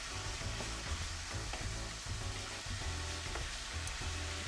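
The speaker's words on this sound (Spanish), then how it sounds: "Sí, que se derrita toda la mantequilla y luego le echamos la cebolla." Butter melts and sizzles steadily in a hot pan, a continuous close crackling hiss with faint low bubbling, heard alone without any voices.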